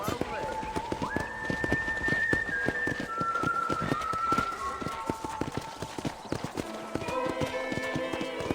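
Rhythmic clip-clopping horse hooves near a ranch corral in the video game Red Dead Redemption, joined by a few sustained whistle-like tones, with background noise underneath.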